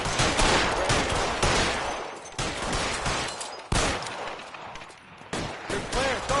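Heavy gunfire in L.A. Noire, a sustained volley of loud, close shots in dense clusters, swelling and dipping through repeated bursts, with a voice briefly talking near the end.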